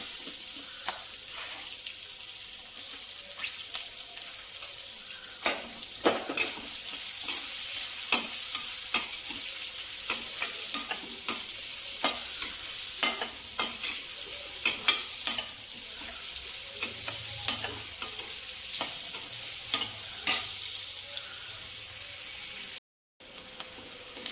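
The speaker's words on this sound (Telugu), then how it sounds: "ఉల్లిపాయ వేగిపోయిందండి చక్కగా." Sliced onion and curry leaves frying in hot oil in a pan, a steady hiss with repeated scraping clicks of a spoon stirring throughout, then a brief pause near the end.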